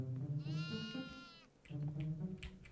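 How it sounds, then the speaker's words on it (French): A goat bleats in the horror video game Devour, two long wavering bleats separated by a short gap, close and fairly loud over a low background. "il y a une chèvre avec du foin"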